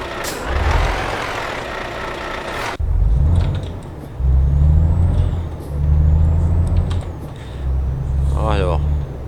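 A truck in a driving video game, with a loud engine drone, a sharp hiss of air brakes near the start, then rising and falling engine revs.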